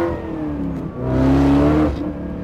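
A Corvette with an LS9 engine revs up briefly as the throttle is touched, swelling to a loud peak mid-clip before settling back to a steady idle.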